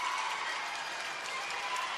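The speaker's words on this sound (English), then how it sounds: "The arena's quite noisy this morning with school children." A noisy arena crowd of school children at a curling world championship keeps up a steady, dense roar of chatter and clapping that fills the space evenly from start to finish.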